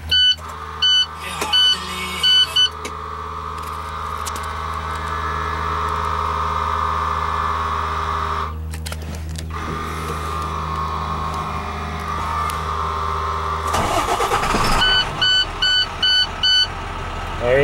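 Warning chimes beep repeatedly, then a truck's starter cranks with the key and the engine catches and settles into a steady loud idle, with the beeping returning near the end.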